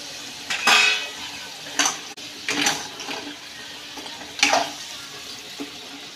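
Shrimp added to a pan of onion and masala, with several distinct clattering, scraping stirs of a utensil against the metal pan, separated by quiet gaps; no voices.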